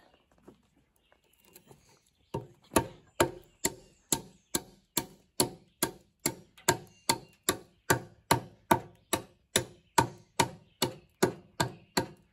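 An axe chops into a log while roughing out a mailbox post, giving about twenty sharp, loud, evenly spaced strikes close by after a quiet start.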